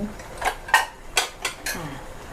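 Braised pork ribs with garlic are scooped from a pot onto a plate, with four or five distinct metallic clinks of a spoon against the cookware and dish.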